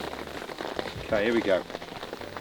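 Rain falls steadily on a golf course in Northern Ireland, a soft continuous patter heard beneath someone speaking briefly close by.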